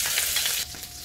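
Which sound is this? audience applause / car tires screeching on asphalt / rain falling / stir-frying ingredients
stir-frying ingredients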